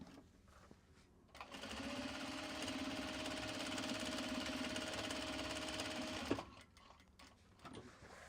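A sewing machine runs steadily for about five seconds, stitching fabric parasol pieces together, then stops. The whirring is close and even, with quieter room sound before and after.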